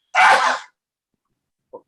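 One loud, sharp sneeze bursts out in a quiet indoor meeting room, followed by near silence and a short faint vocal sound at the end.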